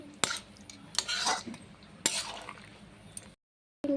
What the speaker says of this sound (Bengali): গরম মশলাটা দিয়ে দিলাম, দিয়ে এখন একটু নাড়াচাড়া করে দিচ্ছি